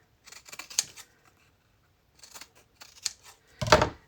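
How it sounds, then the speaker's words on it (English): Fabric scissors cut through printed paper with close, crisp snips in short clustered bursts, separated by a silent pause, and ending in a louder final cut. "you do have to kind of use fabric scissors, but then you're cutting paper too"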